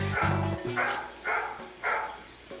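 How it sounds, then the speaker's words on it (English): A phone plays a ringtone of a dog barking, four spaced barks in a row over a low electronic tone. "My phone barked."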